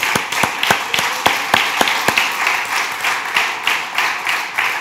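Church congregation clapping in a rhythmic, steady beat of sharp claps, fairly close and loud, continuing for several seconds with no talk over it.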